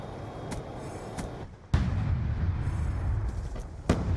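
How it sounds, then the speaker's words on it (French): Hellstorm missile blasts in Call of Duty: Black Ops, a deep booming explosion landing midway over a rumbling battlefield bed, with sharper cracks before and after, no speech. "Vous voyez que le petit Hellstorm va faire plaisir."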